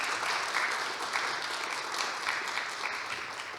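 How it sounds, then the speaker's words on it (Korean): An audience at a public presentation on a training overhaul for new labor inspectors gives sustained applause, dense and even clapping throughout at moderate distance. "다시 한번 큰 박수 부탁드립니다"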